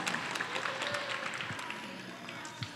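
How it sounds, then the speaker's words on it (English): Audience at a basketball interview event giving a brief round of applause, a soft, scattered patter of many hands heard from a distance and fairly faint. "A little round of applause for Nico, please"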